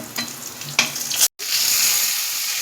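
Vegetables tipped into a hot pan of oil for a fish-head chachchari, sharp sizzling bursts with stirring scrapes, a brief cut, then a steady loud hiss of frying.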